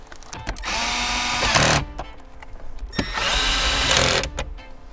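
Two short bursts of a power drill running the top screws back in during a Honda audio amplifier install, close and fairly loud, with small clicks between the runs.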